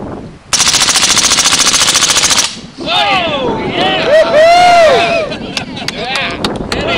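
A machine gun fires one sustained rapid burst of about two seconds, loud and close, then excited voices cheer and shout afterward.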